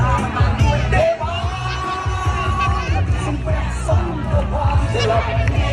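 A Phnom Penh street crowd by the riverside on a Sunday fills the air with loud babble and scattered shouts and yells, with nearby voices talking over the steady hubbub.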